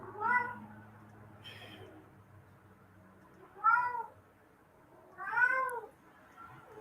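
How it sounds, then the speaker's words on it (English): A house cat meows three times at spaced intervals. The cries are close and clear, and the room is otherwise quiet. "So says the kitty."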